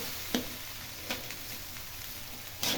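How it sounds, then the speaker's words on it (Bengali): Spices with ginger, garlic and onion paste fry in a pan for biryani, a faint continuous sizzle broken by a few brief stirring scrapes. "একটু মশলা দিয়ে দিই আদা বাটা রসুন আর পেঁয়াজ বাটা হালকা দিয়ে নিচ্ছি এই এবার আমরা ভাজবো"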